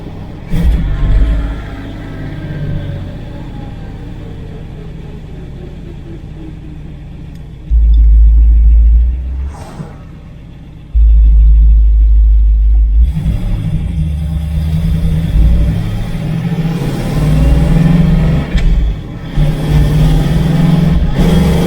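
A 1970 Camaro project car drives under power with a loud, steady engine rumble, heavy low throttle surges, and revs rising and falling in second gear, with no voices.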